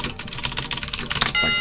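Fingers type rapidly on a computer keyboard at a mainframe terminal, a close, busy patter of key clicks filling the moment.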